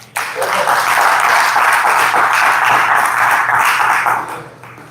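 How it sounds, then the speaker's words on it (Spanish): A church congregation breaks into loud, full applause during a sermon. The clapping is steady and sustained for about four seconds over a low hum, then tapers off. "Denle un aplauso al Señor."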